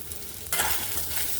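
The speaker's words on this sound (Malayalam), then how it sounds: "ഇത് ചെറിയ ചൂടിൽ ഇങ്ങനെ വറുത്തെടുക്കണം" A brief burst of dry sizzling and scraping as spices roast on low heat while stirred in a hot pan, starting suddenly and staying close.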